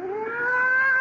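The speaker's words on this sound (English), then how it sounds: "Oh, I'd forgotten that mewing," A cat gives a single drawn-out, rising mew, loud and close, lasting about a second alone in a radio drama scene.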